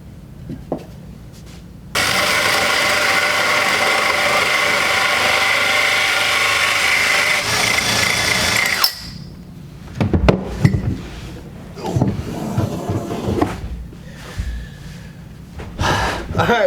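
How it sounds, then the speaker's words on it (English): A drill bores a hole through the back of a wooden cabinet while a dishwasher is being installed, a loud steady whine of about seven seconds, followed by handling noises and breathing. "you wanna drill from your finished side through."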